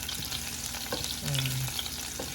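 Garlic frying in a pan for chicken soup, giving a steady bright sizzle with occasional stirring scrapes, close and continuous, with no talking over it.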